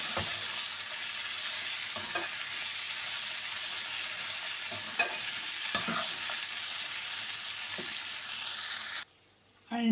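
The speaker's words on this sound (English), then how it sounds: "The bread is very crispy, so you have to mix along with the onion and the tomatoes." Crispy bread stirred with onion and tomatoes in a hot pan makes a constant soft sizzle punctuated by irregular scraping spoon strokes. It stays close and even, then drops to near silence just before the end.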